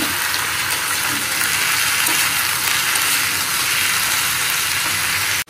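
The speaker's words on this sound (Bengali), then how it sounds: "আলু ভাজাটা চাপিয়ে দিই" Potatoes fry in a hot pan with a loud, steady sizzle and bubbling hiss close by, continuous until it cuts off abruptly at the end.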